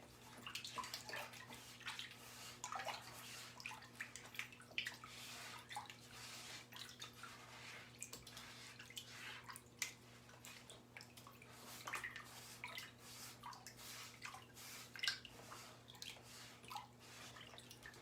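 Water splashes and sloshes in a filled tub while something is washed by hand. The sound is faint, continuous and uneven, with an irregular stir and a steady low hum underneath.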